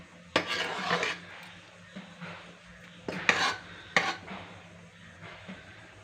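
Ghee rice being stirred and mixed in a pot, with quiet scraping and several sharp metallic clinks of a spoon against the vessel at irregular intervals, fairly close and soft overall.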